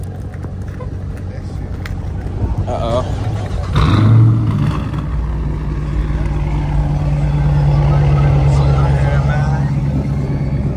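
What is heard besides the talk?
Dodge RT muscle car engine running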